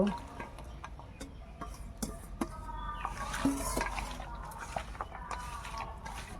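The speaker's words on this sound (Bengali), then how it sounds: "আদা বাটা, জিরে বাটা, রসুন বাটা, পেঁয়াজ বাটা, একসঙ্গে ডুমুরগুলো মেখে নেব।" Figs are mixed by hand with ground ginger, cumin, garlic and onion paste and salt in a metal bowl, soft squelching with repeated light taps and clinks, fairly quiet and close, with chickens clucking faintly in the background.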